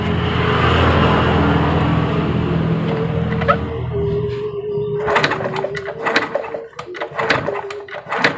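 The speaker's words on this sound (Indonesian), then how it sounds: "Coba kita ulangi lagi ya, kita engkol ya." A Honda Supra motorcycle is kicked over in a workshop during an ignition coil check: a whirring engine note fades out, then a series of sharp, irregular ticking snaps and clattering kicks follow close by.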